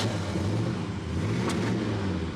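An abandoned muscle car rescued from a junkyard backs up a few feet, giving a steady low engine rumble with a dense broadband hiss that holds evenly throughout, close and fairly loud, with no talk.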